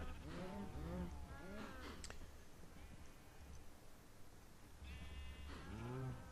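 Sheep bleating in the Minecraft Tekkit modpack, several wavering bleats in two clusters with a quiet gap between them, close and clear over a faint background hum.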